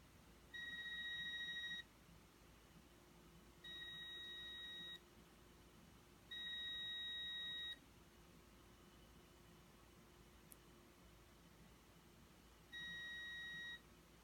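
A continuity tester checking a grounding wire and welded ground rods gives four steady, evenly pitched electronic beeps, each lasting about a second, separated by longer pauses over faint background hiss.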